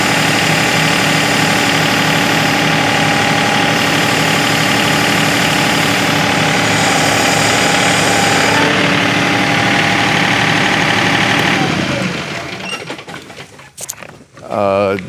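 John Deere 2038R compact tractor with a 220R loader, engine running at 1400 RPM, a loud, close, steady mechanical drone that fades out near the end while a voice speaks briefly.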